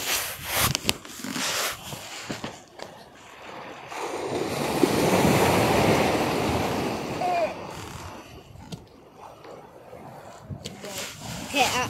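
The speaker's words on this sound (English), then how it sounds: "there's some big waves coming in" Big ocean waves break along the shore at Staithes, UK, a deep roaring surge building and peaking mid-way, with wind buffeting the microphone and someone talking before and after the crash.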